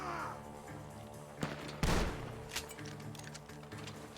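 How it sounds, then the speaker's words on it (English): Gunfire in the video game Red Dead Redemption 2: a few sharp shots crack out at a distance, one louder burst among scattered quieter pops over a low background hum. "The gunshots are coming from that."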